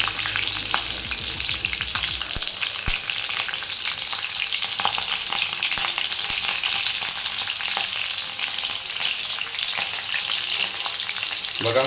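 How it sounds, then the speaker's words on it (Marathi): Green chillies dropped into hot oil with garlic, crackling in a loud, continuous, dense sizzle that holds steady throughout, close up with no voices. "आपण आता हिरवी मिरची टाकतो."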